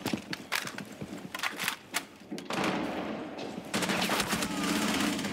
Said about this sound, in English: I literally shot you in the mouth!